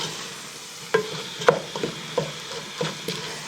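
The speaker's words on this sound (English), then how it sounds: "And I'll stir that right into the beef here" Freeze-dried peppers stirred into beef in a pot: a few soft scrapes and clinks of a spoon over a faint sizzle, close up, with no voices.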